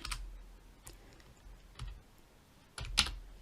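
Scattered keystrokes on a computer keyboard while entering R code, a handful of soft clicks spread irregularly with a louder cluster near the end, close by in a quiet room.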